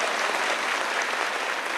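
Dense audience applause at a devotional gathering, a loud steady wash of many hands clapping close by, unbroken for the whole stretch.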